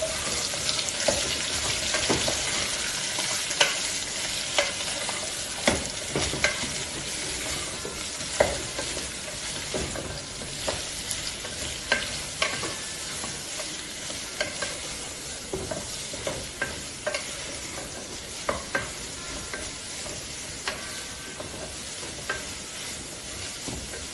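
Chicken fries with green chilies in a pan for a pepper chicken fry, sizzling steadily while a spoon stirs and scrapes with frequent sharp clicks throughout, close up and with no talking.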